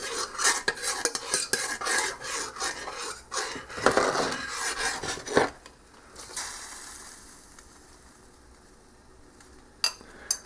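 A spoon scrapes and stirs a thick molasses and baking soda mixture in a pot, busy clattering strokes for several seconds, then fading to a quiet bubbling hiss with one late knock.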